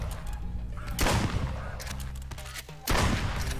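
Gunfire rings out in the hunting video game Duck Season: several loud, closely spaced shots in short bursts, with a reverberant, boomy tail.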